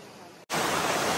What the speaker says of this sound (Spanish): Es que esta cascada parece que está puesta a posta.